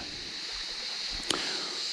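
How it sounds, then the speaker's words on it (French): Waterfall on a steep, wooded hillside on Samos island, a steady broad rush of falling water that holds even throughout, with one brief knock partway through. "Voilà la cascade."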